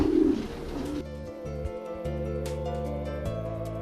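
Racing pigeons in a loft giving low soft coos, a few drawn-out calls close by with faint background rustle.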